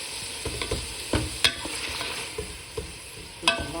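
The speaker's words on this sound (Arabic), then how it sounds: "والحين بحط ملعقة من مغرفة من موية السلق." Boiling liquid ladled into sizzling chicken maqluba with cardamom, giving a steady close fry with several sharp splashy bursts and stirring clatter, no voices.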